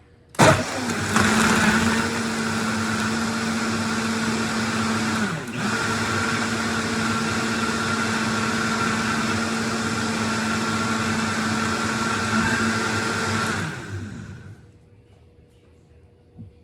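A blender mixing a protein drink runs loud and steady for about fourteen seconds with a constant motor whine, briefly dipping once, then spins down and stops.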